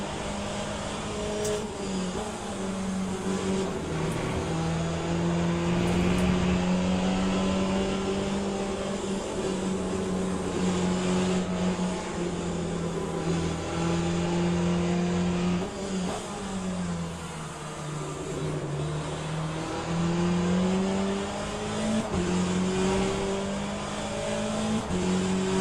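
Race cars in the Le Mans Ultimate racing game, with Ferraris and Porsches on track, a continuous loud engine drone that rises and falls through gear changes and acceleration, with occasional tire noise and no talking.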